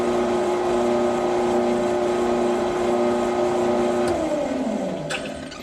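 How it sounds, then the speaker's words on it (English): A metal lathe runs in reverse with a steady motor whine and hum, then spins down near the end as its pitch falls away, close and continuous with no talk. "I now need to turn the lathe on in reverse"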